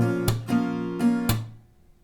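Acoustic guitar strummed in a down, up, clap, up pattern for a song lesson, with sharp percussive hand claps on the strings between strums; one short round played close and clear, no talking.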